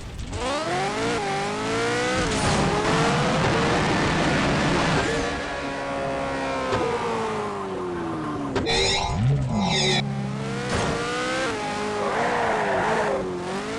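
A jet car in the Jet Car Stunts 2 game roars continuously, its engine pitch climbing and falling with acceleration, with sharp tire squeals and skids while drifting partway through.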